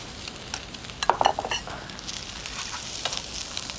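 Prawns fry in a pan of oil while cooking for a Spanish paella, a soft steady sizzle with a brief burst of scraping stirring and clinks near the start, close and fairly quiet.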